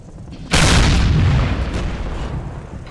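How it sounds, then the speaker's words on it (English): A Panther tank's main gun fires once in a video game, a loud close boom bursting out then rolling into a long rumbling tail. "has spotted another panther on the right hand flank on the hill, who is firing"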